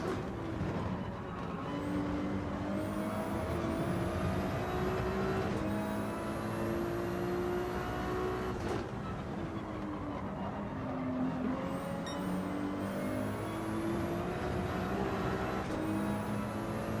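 Race car engine in Gran Turismo 7 revving and shifting through gears, with repeated rising whines and several brief drops as the throttle lifts, a loud, steady in-car drone lasting the whole stretch with no talking.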